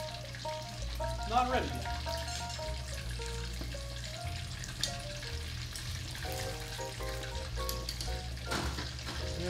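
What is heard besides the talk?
Japanese karaage chicken frying in oil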